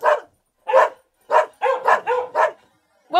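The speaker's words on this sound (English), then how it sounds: "It sounded like dogs barking." Dogs bark in a string of loud, close yips and bow-wows, several quick barks bunched together with short silent gaps, no other sound around them.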